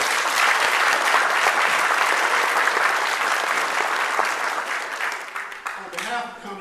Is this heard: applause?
yes